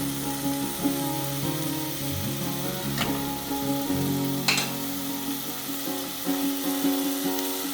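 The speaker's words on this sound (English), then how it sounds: "Those ingredients are going to be fried together" Diced curry bread filling ingredients sizzle and fry steadily in a pan, a continuous close crackle with a couple of sharper stirring scrapes and clatters along the way.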